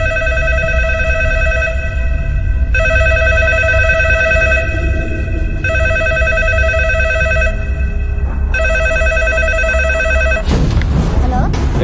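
A telephone rings loudly in repeated bursts of electronic ringing separated by short gaps, ending abruptly before a muffled handling sound.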